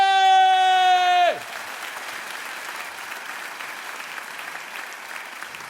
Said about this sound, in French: Cher Michel, cher Guenièvre, vive les mariés, on les applaudit très fort, s'il vous plaît!